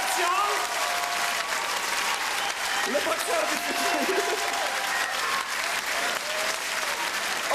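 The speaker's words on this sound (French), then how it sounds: "On l'applaudit, mesdames et messieurs, c'est Tony Concepcion." Loud, sustained audience applause in a comedy stage show, cheering on boxer Tony Concepcion, with someone speaking over the clapping throughout.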